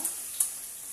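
Potatoes sauté in a pan with a soft continuous sizzle, punctuated by two quick stirring scrapes.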